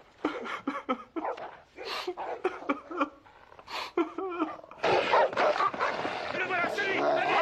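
Several dogs bark and yip excitedly as they are urged on to search, with loud overlapping shouting and voices throughout, the barking growing denser and more continuous in the second half.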